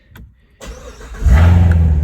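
A Corvette Z06 engine starts in a garage: a quiet click and a short crank, then the engine catches and settles into a loud, steady, deep idle, with no talk.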